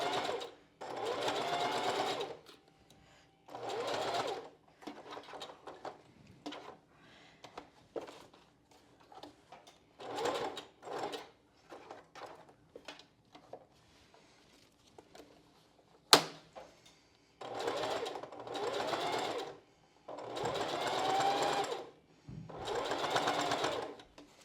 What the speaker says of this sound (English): I'm just taking it really slowly so I can try and sew right on the edge